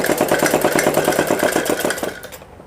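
A sewing machine runs steadily, stitching a suit sleeve onto the body fabric with a fast, even mechanical clatter, close and loud, then slows and stops near the end.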